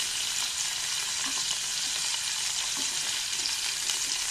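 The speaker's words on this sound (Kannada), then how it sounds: "ಈಗ ನಾನು ಈರುಳ್ಳಿ ಹಾಕ್ತೀನಿ." Chopped onions hit hot oil already crackling with mustard seeds and curry leaves, giving a continuous hissing sizzle with faint pops, close and steady, with no voices.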